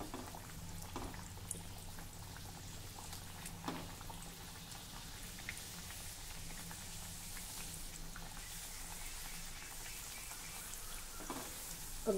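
Puris deep-frying in oil over a low gas flame, giving a soft, steady hiss and sizzle that runs evenly throughout with no talking.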